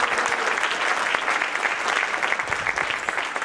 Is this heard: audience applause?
yes